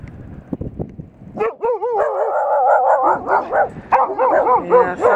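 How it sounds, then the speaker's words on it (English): Dogs bark repeatedly on a farm as chicken tractors are moved, a run of loud, close yips and barks with whining tones, preceded by a few low thumps and wind noise. "something new for the dogs to bark at."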